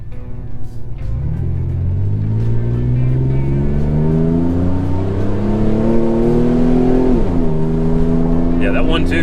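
A sport truck engine revs up on a dyno, its loud, steady roar climbing in pitch for several seconds before dropping back, close and continuous throughout.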